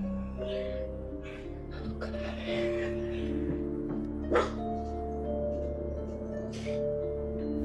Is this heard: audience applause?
no